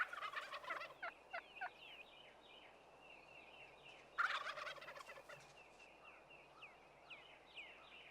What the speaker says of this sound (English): To lure hens from the surrounding woods, the male turkeys, the toms, assemble in a strutting arena.